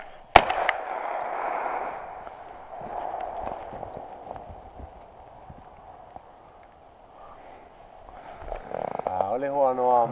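A single sharp shotgun blast cracks out near the start during a spring crow hunt, then fades into a quiet outdoor backdrop. Near the end a warbling, voice-like call rises.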